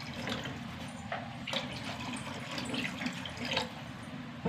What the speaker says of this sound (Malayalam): ചാറിന് ആവശ്യത്തിന് വെള്ളം ഒഴിക്കാം